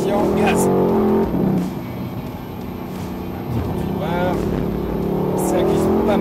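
A Mercedes-AMG C63 S engine pulling hard at full throttle out of a hairpin, a loud droning roar that dips and then rises again, with someone talking over it throughout.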